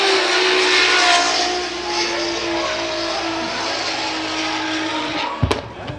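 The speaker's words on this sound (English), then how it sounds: "On throttle a little late, swinging out nice and deep through zone 1." Drift car at Fuji International Speedway during a Formula Drift Japan qualifying run, its engine droning loud and sustained with a shifting pitch as it swings through the corner, and a brief sharp burst near the end.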